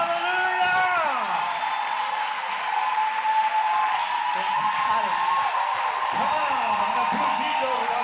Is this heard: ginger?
no